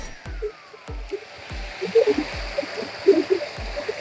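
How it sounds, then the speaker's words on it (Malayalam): Water sprays from a homemade pipe sprinkler, a light hissing patter of droplets over regular low thumps that repeat about every half second, close and fairly quiet. "വീണ വെള്ളം നല്ല സ്പ്രേ ആയിട്ട് ഇങ്ങനെ വീഴും."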